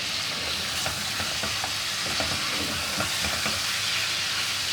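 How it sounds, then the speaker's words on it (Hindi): Ginger garlic paste fries in a pan with a steady, dense sizzle, close and continuous, while a spoon stirs it in scattered scraping strokes. "अब इसमें हम 2 टेबल स्पून अदरक लहसुन का पेस्ट डाल देंगे। इसको भी भून लेंगे अच्छी तरीके से।"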